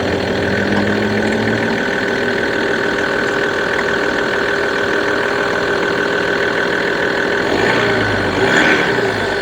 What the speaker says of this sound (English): this diesel engine is super quiet on the outside